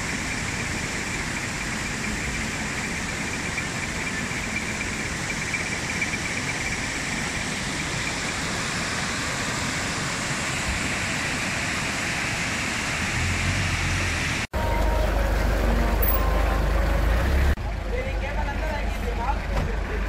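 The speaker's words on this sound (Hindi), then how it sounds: "ये वो नाला है जिसमें शाम में पानी ज़्यादा हो जाता है" A rushing mountain stream (nala) on the road to Hushe Valley near Skardu, Pakistan, giving a loud, close, unbroken roar of water for most of the clip before an abrupt cut to a different, engine-like rumble.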